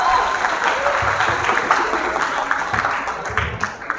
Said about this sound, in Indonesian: Tepuk tangan buat ibu kita loh.